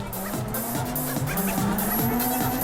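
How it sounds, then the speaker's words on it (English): Tuned cars drifting through a cross-line drift, swapping positions across each other's driving line, with rising, wavering tire squeal over steady engine roar, loud and continuous. "First up is the cross-line drift."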